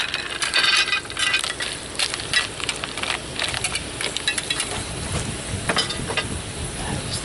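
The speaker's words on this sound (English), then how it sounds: "Now we're going to add our clams." Clams tipped into a metal pot, a busy run of hard clicking and clattering shell knocks, loudest at the start and continuing in scattered bursts throughout.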